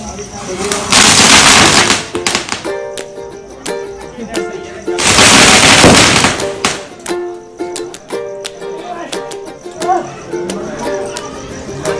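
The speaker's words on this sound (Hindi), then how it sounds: "इन्होंने पटाखे फोड़े थे" Firecrackers bursting outdoors ahead of a Holika Dahan bonfire during Holi, two long loud crackling volleys of rapid pops, with children and people chattering between and under the bursts.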